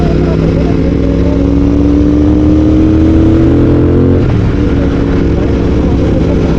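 A Royal Enfield Continental GT 650 fitted with a Red Rooster exhaust runs loud and steady, its deep exhaust drone rising slightly, then shifting pitch as the revs change.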